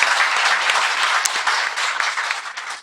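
A studio audience claps steadily for a guest on a Korean talk show, a dense, even wash of hands that runs the whole time with no voices on top and fades sharply at the end.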